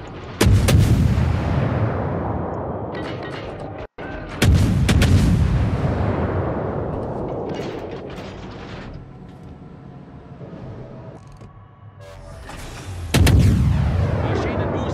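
Naval artillery fire in the video game World of Warships: three heavy cannon salvos, each a loud booming blast followed by a long rumbling decay, spaced several seconds apart and close.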